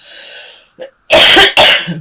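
Close, loud harsh coughs from a person with a cold, two strong bursts after a short breathy throat sound, with brief silences between.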